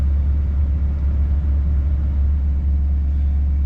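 An LML Duramax diesel pickup engine holds a steady high idle, a loud, even low rumble with a constant drone close by and no talking throughout.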